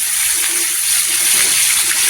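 Water sprinkled over stuffed eggplants in a pan gives a steady, close splashing hiss that runs unbroken throughout.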